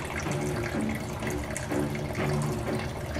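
Tap water runs steadily into a container as it fills, a continuous close splashing and gurgling rush with no talking.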